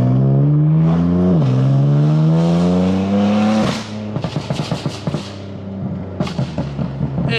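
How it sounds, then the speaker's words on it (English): A loud BMW M3 or M4 engine with straight pipe exhaust drones and revs, then drops into a choppy, popping burble of rapid bursts, close by. "the straight pipe exhaust for like an aggressive burble tune"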